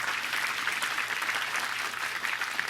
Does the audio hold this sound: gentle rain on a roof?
no